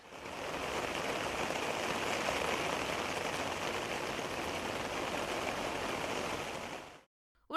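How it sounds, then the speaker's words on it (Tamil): Widespread rain falls steadily over the Marina Beach area of Chennai at midnight, an even hiss at moderate level that runs unbroken for about seven seconds before cutting off. "மெரினா கடற்கரை திருவல்லிக்கேணி ராயப்பேட்டை எழும்பூர் உள்ளிட்ட பகுதிகளில் பரவலாக மழை பெய்தது"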